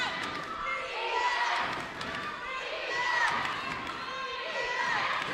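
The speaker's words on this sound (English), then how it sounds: "the crowd chants defense" Crowd noise fills a women's college basketball game, Loyola against Morgan State, with fans chanting in a rhythmic pattern over steady arena murmur, plus scattered thumps and a commentator talking throughout.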